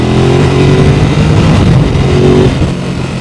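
Ducati Supersport S motorcycle pulling hard in third gear, its engine note loud and close as it revs up steadily over a few seconds with rising harmonic tones.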